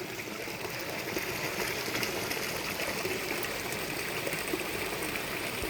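A small stream flows steadily through cleared farmland in Idukki, Kerala, a continuous close, even rush of water with no talk.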